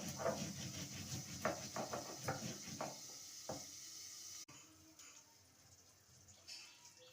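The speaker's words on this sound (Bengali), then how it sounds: "উচ্ছেটা আর একটু ভাজা হবে।" Bitter gourd fries in a pan with a busy sizzle and crackle broken by sharp pops, then drops to a quieter hiss after a sudden break.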